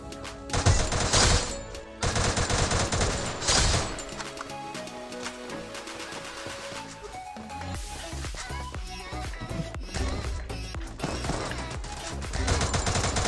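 Gunfire in the Free Fire video game on an emulator, with rapid bursts of automatic shots, some loud and dense, others sparser, repeating across the stretch among other game sounds.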